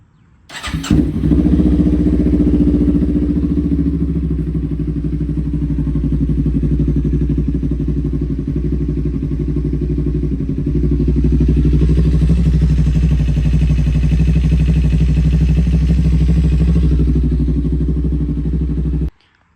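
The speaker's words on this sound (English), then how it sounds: "we're gonna start the bike, run the bike a little bit, turn the bike back off, let the oil circulate in through the motor" A 2024 Kawasaki Ninja 500 motorcycle starts and idles at close range during a 2,000-mile oil change, its engine holding a steady, loud rumble for nearly twenty seconds before cutting off, with no voices.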